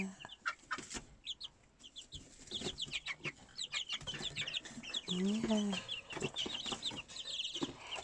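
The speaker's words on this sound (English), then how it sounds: "Good chicken chickies. Good baby chicks." Baby chicks on a farm chirping and clucking continuously in a steady high peeping chorus close by, with a person speaking softly among them.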